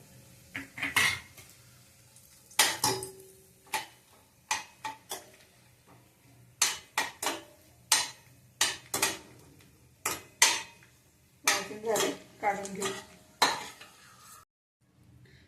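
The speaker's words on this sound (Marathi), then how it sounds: "खोबरं भाजून घेऊ" Grated coconut being roasted in a pan for Kolhapuri bhadang, with a metal spoon scraping and clanking against the pan in repeated sharp strokes over a faint sizzle; someone speaks briefly near the end.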